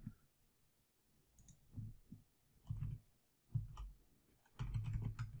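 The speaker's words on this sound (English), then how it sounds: "we're going to go ahead and type in a username and password for the server" Computer keyboard typing in a username and password, quiet bursts of soft key clicks with pauses between them, growing denser toward the end.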